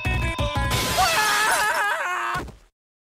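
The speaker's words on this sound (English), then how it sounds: "The weaker glass should shatter if I drop fire bars at a high frequency." Glass shattering in an animated game scene, a loud crash followed by tinkling, ringing shards scattering and warbling for about two seconds before abruptly going silent.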